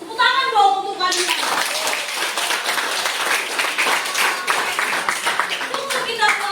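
Children in a primary school classroom clap together in a sustained burst of applause lasting several seconds, close and fairly loud, with a teacher's voice briefly heard before and after the clapping.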